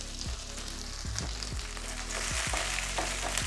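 Small onions sizzle and sauté in hot oil with mustard seeds, cumin and curry leaves for an arai keerai dal, a steady close frying hiss broken by several stirring scrapes of a spoon in the pan.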